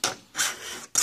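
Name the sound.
filing (dressing) a chainsaw bar on a bench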